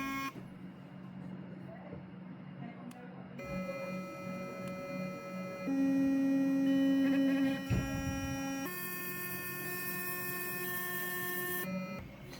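A Curaprox Hydrosonic Pro electric toothbrush hums close by in a steady tonal buzz that shifts pitch and intensity in distinct steps as its brushing mode changes.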